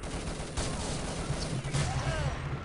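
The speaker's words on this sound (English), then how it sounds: "2 killed by a grenade." Explosions and gunfire crackle through a tense round of the video game Urban Zone as a thrown grenade goes off, sharp blasts over continuous battle noise with a low rumble underneath.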